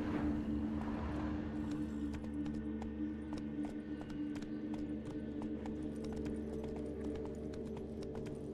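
Roach the horse's hooves clip-clop in The Witcher 3, a steady run of sharp, evenly spaced hoofbeats over a constant low ambient drone, fairly close and moderately loud with no talk.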